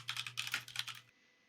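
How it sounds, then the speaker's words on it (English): Computer keyboard keys typed in a rapid skittering patter of clicks over about a second, close and fairly loud, with a steady low hum underneath that stops when the typing ends. "That skittering sounds suspiciously like somebody hitting the keys on the keyboard"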